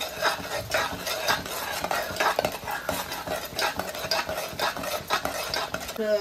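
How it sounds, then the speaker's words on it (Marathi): Turmeric and chili masala stirred in a pan for a homemade Marathi mutton thali, a spoon scraping and clinking steadily against the metal over a faint sizzle, close up with no talk. "अर्धा टीस्पून हळद, तिखट मसाला चांगला असा हलवून द्यायचा."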